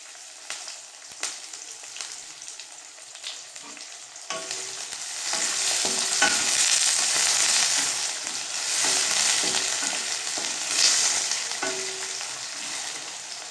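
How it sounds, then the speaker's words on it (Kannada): Chopped onions and fresh curry leaves fry in hot oil with cumin, giving a steady close sizzle that swells louder partway through, with soft scrapes and taps from stirring in the pan. "ಈರುಳ್ಳಿ ಹಾಕ್ತಾಯಿದ್ದೀನಿ, ಮತ್ತು ಹಸಿ ಕರಿಬೇವು"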